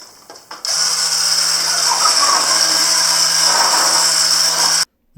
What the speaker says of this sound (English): take my trusty little sander and just give them a kind of a more smooth surface